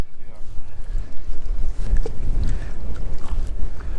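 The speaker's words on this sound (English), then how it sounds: "This wind is rough, guys." Strong gusting wind buffets the microphone with heavy low rumbling outdoors while fishing in cold weather in Delaware, close and loud, rising and falling for the whole stretch.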